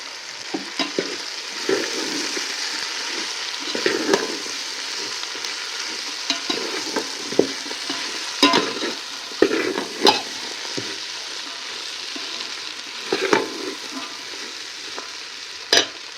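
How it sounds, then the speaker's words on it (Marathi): Ingredients for rajma (ghevda) pulao sauté with turmeric in a pan: a steady soft sizzle runs throughout, broken by repeated scraping strokes of a spoon stirring close by, with no voices. "आता सगळा मटेरियल चांगला परतून घेतला"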